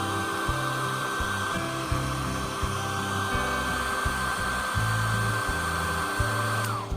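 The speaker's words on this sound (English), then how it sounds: "Using a hairdryer, heat where located cables of Face ID." A hair dryer blows steadily on high near an iPhone XR, heating the Face ID cable area before disassembly; a continuous whirring hum with a faint whine runs throughout and cuts off at the end, with no talking.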